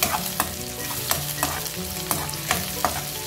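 Chopped garlic and browning onion sizzle steadily in a pan while a utensil scrapes and stirs at irregular intervals, the clacks close and clear over the constant frying hiss.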